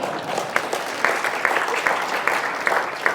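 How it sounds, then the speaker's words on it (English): An audience at a business sustainability speech gives a round of applause. The clapping is moderate and fairly close, with slightly uneven bursts of hands over a few seconds and faint room murmur underneath. "So give him a round of applause."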